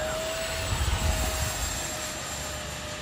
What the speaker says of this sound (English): Love them afterburners.